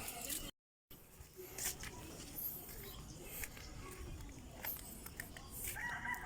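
Backyard chickens cluck and call at a distance over a steady, noisy outdoor background, with brief faint bursts scattered through.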